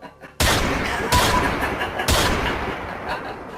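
Three loud, booming gunshot sound effects ring out about a second apart after a brief quiet start, each trailing into a long reverberant decay.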